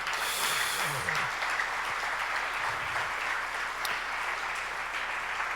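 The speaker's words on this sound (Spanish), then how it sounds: "Dale un aplauso si quieres al Señor." Church congregation applauding for the Lord during a Spanish-language sermon, a steady wash of many hands clapping with a few faint voices and a sharp click near the end.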